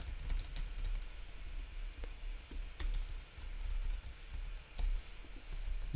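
Keyboard shortcut keys pressed on a computer keyboard, a close and steady run of crisp key clicks and taps with no talking.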